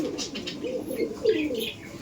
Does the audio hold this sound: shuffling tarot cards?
no